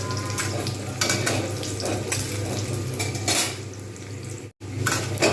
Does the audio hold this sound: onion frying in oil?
yes